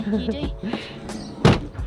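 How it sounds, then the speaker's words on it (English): Van doors are pulled shut, with a solid thunk standing out near the end amid handling noises, while people talk close by. "Okay, I'm shutting the doors."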